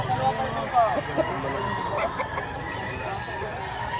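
Chickens and a rooster at a busy Batangas poultry market, with clucks and a brief crowing rooster over a steady hubbub of voices and crowd noise.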